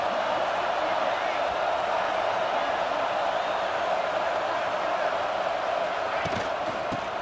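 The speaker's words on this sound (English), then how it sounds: "This crowd ready to make its presence known." A large stadium crowd in the College Football 26 video game keeps up a dense, constant roar throughout, loud and unbroken, with game commentary voices mixed over it.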